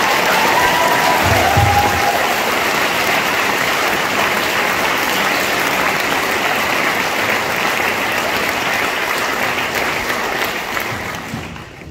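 Applause from the audience at a 2022 Abitur graduation ceremony at a Gymnasium in Oberhaching, a loud, sustained crowd clapping that fades out at the end.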